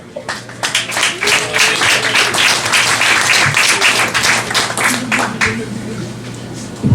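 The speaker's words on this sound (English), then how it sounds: "Give a big round of applause to Watt Smith." A comedy club audience at Cafe Diem claps and cheers to welcome comedian Watt Smith to the stage, a dense burst of applause lasting several seconds before thinning out near the end, with some crowd voices mixed in.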